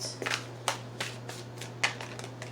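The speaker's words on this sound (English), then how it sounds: "so let's keep shuffling" Tarot cards being shuffled in quick bursts, crisp riffling snaps and flutters close up, with a steady low hum underneath and no talking.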